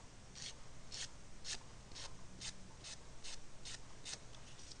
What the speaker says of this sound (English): You really don't want to pull it, you really want to make sure that you file it.